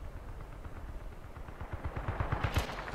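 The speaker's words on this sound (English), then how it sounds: "I'm getting shot at by something, a tank." Rapid gunfire in the Battlefield Bad Company 2 video game, faint at first and building into a denser burst of sharp shots toward the end, with a low rumbling battle backdrop.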